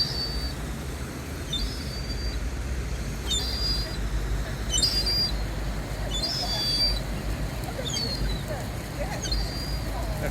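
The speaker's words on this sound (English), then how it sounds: "because we're getting mobbed by seagulls and pigeons" Seagulls and pigeons mob people on the snowy Dawlish seafront. Short, sharp, high cries repeat every second or two over a constant low background roar.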